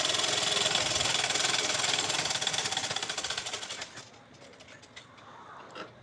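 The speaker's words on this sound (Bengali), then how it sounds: "হাতাটা একটা দিয়ে বর্ডার লাইন আমি সেলাই করে নিচ্ছি।" A sewing machine stitches the border line of a garment sleeve with a fast, steady mechanical whirr that runs for about four seconds, then stops and leaves faint handling noises.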